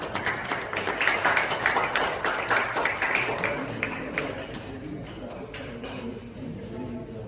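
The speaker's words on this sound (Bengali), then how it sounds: "আপনারা একটু করতালি দেবেন।" An audience at the opening of a theatre festival seminar claps together in a dense burst of applause that gradually thins and fades, with some background voices.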